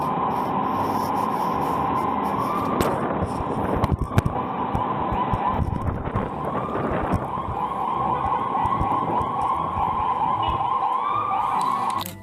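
An ambulance siren wails steadily and loudly throughout, stuck in traffic on a city road behind ordinary vehicles, with a continuous rising-and-falling tone over rumbling street noise and a few brief clatters.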